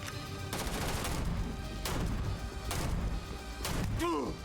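Gunfire in the video game Starfield, with several loud, sharp bursts of shots spaced about a second apart over a constant rumbling background.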